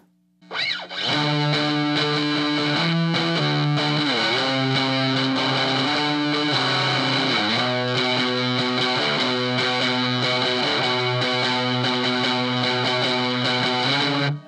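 An electric guitar runs through a Fuzz Factory fuzz pedal, thick and buzzy, playing sustained notes and short riffs loudly and continuously for the whole stretch.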